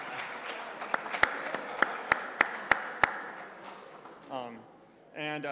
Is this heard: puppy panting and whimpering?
no